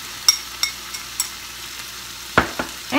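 White spring onion stir-frying in a pan, a faint low sizzle under a few sharp spatula clicks and scrapes, close by, quiet between strokes, with no one speaking.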